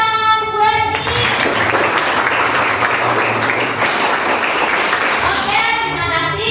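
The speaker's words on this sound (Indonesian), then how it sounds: "tepuk tangan buat Iin" A classroom of children breaks into applause, dense steady clapping filling most of the moment at close range, with a brief voice at the start and end and faint tonal background underneath.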